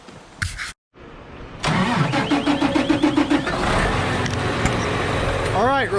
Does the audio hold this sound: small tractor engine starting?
yes